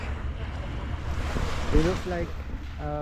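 Wind and small waves on the Elbe river beach in Hamburg, a steady broad rush with wind buffeting the microphone, a faint tonal sound rising briefly near the end.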